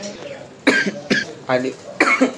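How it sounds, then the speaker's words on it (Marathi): Several harsh coughs in quick succession from one person close by, spaced about half a second apart. "खोकला झाला मला जरा."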